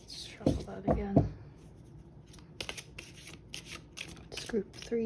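A deck of cards riffle-shuffled in quick bursts near the start, followed by light rustling and tapping, with brief voices near the end.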